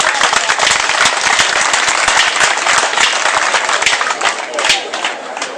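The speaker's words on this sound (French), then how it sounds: "Je veux que vous applaudissiez très fort." An audience at a political movement speech in Ziguinchor bursts into loud, dense applause that holds for several seconds and then eases slightly, with crowd noise mixed in.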